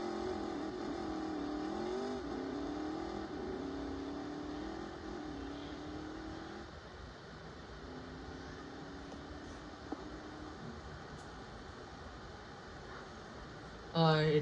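A car engine runs steadily at close range, its hum shifting to a lower pitch partway through, before a brief louder burst at the very end.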